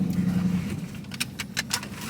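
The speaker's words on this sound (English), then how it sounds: "Got a loud truck." A loud truck passes close by outdoors, a broad rumbling roar with bursts of harsh noise that swell and fade across a couple of seconds.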